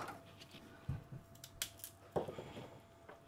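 Asparagus spears being snipped for a salmon-and-prawn quiche topping, giving a few short, sharp cuts spaced apart, fairly quiet, with no talking.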